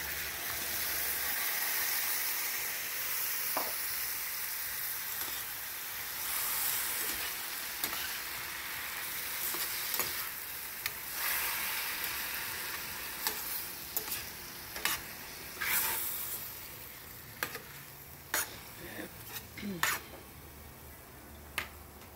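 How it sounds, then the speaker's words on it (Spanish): Chopped tomato goes into a pan of frying onion and chile, which hisses and sizzles quietly while a spoon stirs and scrapes with sharp clicks toward the end. "ahora le voy a agregar el jitomate en este punto de la cebolla y el chile"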